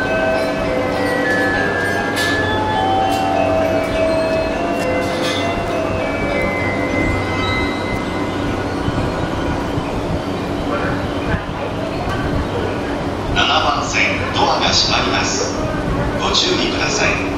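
A JR Yamanote Line E235 series train pulls out of Ikebukuro Station, a steady rumble of motor and wheel noise building under station announcements, with chime-like tones entering near the end.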